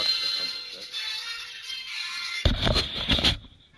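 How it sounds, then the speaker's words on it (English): A phone rings with a steady electronic ringtone for about two seconds, then gives way to a louder, noisy burst of sound; no one speaks. "I need to answer this phone call"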